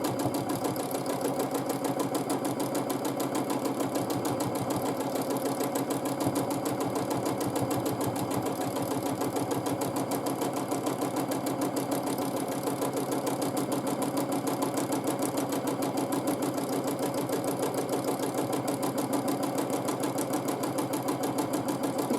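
A sewing machine quilting a feather texture runs steadily with a fast, even mechanical whir and clatter, close and constant throughout with no pauses or talk.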